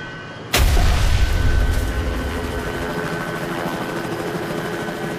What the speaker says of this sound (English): 13 seconds after lifting off, Flight 405 crashes on the shore of Flushing Bay